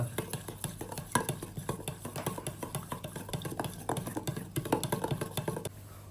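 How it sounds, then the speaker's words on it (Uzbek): Chicken being stirred by hand with about 100 grams of vegetable oil for oven-baked Korean-style chicken tabaka, giving a steady run of soft wet squelching and pattering under a low background hum, fairly close. "Ozgina yog' solamiz, taxminan 100 grammcha. Aralashtiramiz."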